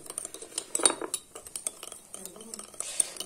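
Milk being stirred into a cup of coffee, a spoon clinking and scraping against the cup in quick repeated strokes, close and moderately loud.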